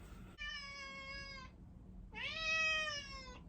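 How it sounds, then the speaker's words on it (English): A cat meows twice in a quiet room, two drawn-out, clear meows separated by a short pause, the second slightly louder, with no talking. "Sorry about the cat."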